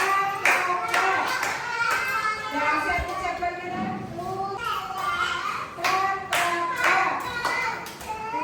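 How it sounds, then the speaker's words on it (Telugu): Children clap their hands together at an anganwadi preschool: a lively, uneven run of sharp claps repeating over several seconds, with children's voices chattering underneath. "క్లాప్స్ కొట్టండి."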